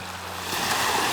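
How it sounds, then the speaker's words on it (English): Atlantic Ocean surf washes in at Round Hill Beach in Dartmouth on an early spring day, a steady rushing roar that swells slightly, with some wind buffeting the microphone. "There's the ocean right there. The Atlantic Ocean."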